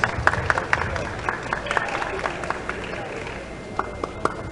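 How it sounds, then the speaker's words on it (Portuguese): Audience applause for a bodybuilding athlete at a NABBA Brazil 2011 contest, scattered clapping from a crowd that runs steadily under an announcer's voice. "Os aplausos de vocês para o atleta Sérgio Gomes."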